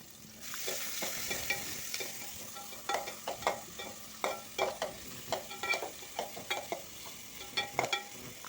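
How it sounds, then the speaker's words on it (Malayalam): Ginger-garlic paste and other ingredients sautéing in a pan for a Kannur-style breakfast dish, a steady sizzle under repeated close scrapes and stirs of a spatula that quicken into a regular rhythm. "ഇതൊക്കെ ഇതൊക്കെ ചേർത്ത് നന്നായി വഴറ്റി വഴറ്റിയെടുക്കുവാണ്"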